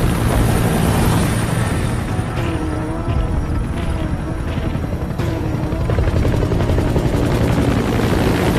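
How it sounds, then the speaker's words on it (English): Support helicopter arriving in the video game Metal Gear Solid 5, a loud, continuous rotor beat and turbine roar that stays close and steady throughout, without speech. "Extraction arrived at the support helicopter."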